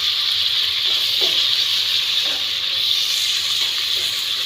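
Onions fry in a pan while crab is being cooked, giving a steady bright sizzle and hiss with faint stirring scrapes, close and continuous without speech.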